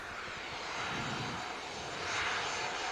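A British Airways jet takes off at Manchester Airport, its engine roar a broad, steady distant rush that swells slightly as it climbs.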